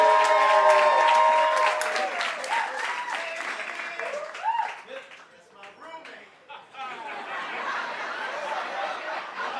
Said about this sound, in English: Please give a lovely, loud round of applause for Pages.